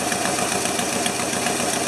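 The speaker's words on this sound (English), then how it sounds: "it's idling a little fast" 1975 Lincoln Continental engine idling slightly fast, a close, steady mechanical hum with a regular low pulsing throb and no voices over it.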